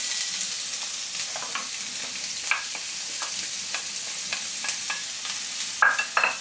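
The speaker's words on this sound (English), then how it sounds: "now we want to put in our onion" Chopped onion frying in oil with browned cumin, a constant bright sizzle broken by repeated light scrapes and clinks of a utensil stirring the pan, with a louder burst near the end.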